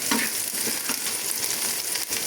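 Garlic, onion and chili fry in a pan for a dish of fried bottle gourd greens, giving a steady close sizzle with small bursts of crackle and no voices.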